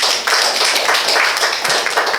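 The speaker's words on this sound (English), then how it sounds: "Clap for yourselves again." Audience clapping at a workshop for persons with disabilities, a brief burst of scattered hand claps in an uneven rhythm, fairly close and moderately loud.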